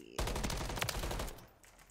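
A burst of rapid gunfire from two players in a video game sounds as dense, overlapping shots for about a second before dropping off sharply, with no talking.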